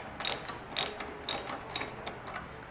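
Ratchet wrench loosening a stubborn bolt on the grab rail of a Royal Enfield Continental GT 650 motorcycle, close rhythmic clicking in four or five quick bursts, fairly quiet, no talking.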